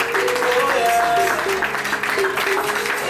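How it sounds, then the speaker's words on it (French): Applause from guests at a civil wedding ceremony in Gabon, loud and close, mixed with voices and cheering throughout the short burst. "Des applaudissements, je vous en prie."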